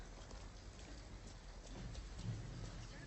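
Steady rain in the video game Detroit: Become Human keeps up a dense, even patter, with a low thunder rumble swelling faintly toward the end. It sits at low volume with no talk.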